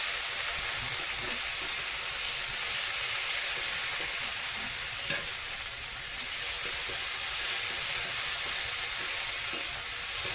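Water lily stems frying with salt and turmeric in a pan, a steady close sizzle with a constant hiss and occasional light scrapes of stirring, with no voices.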